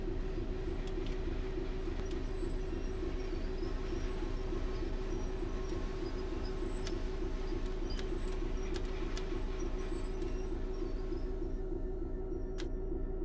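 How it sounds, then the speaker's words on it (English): A video-game freight train hauling petroleum wagons sits with a steady low engine rumble and constant wheel drone, accompanied by faint scattered birdsong, with no talking. "Which is a bit of an unusual place to stop a train full of petroleum wagons"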